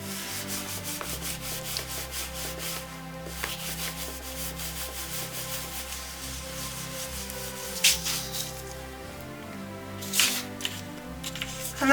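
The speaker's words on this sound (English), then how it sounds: "Giving that a really good buffing." Continuous close rubbing as a cloth buffs an embossed ink-resist card panel, dry scratchy strokes in a steady rhythm with a few louder scuffs near the end, no voices.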